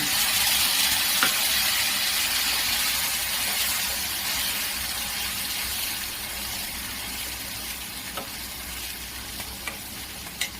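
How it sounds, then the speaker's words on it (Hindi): Tomato paste frying in a pan over a low flame for shahi paneer masala, a steady soft sizzle with faint stirring scrapes and occasional small clicks, alone without talk. "अब इसमें टमाटर का पेस्ट जो मैं बनाई हूँ वो डालूंगी"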